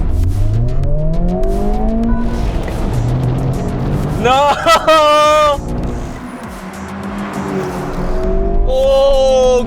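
Drag race between a Honda Civic Type R FL5, Toyota GR Corolla and VW Golf GTI: engines rev and accelerate hard with rising gear-change pitch sweeps, loud, beneath excited shouting commentary.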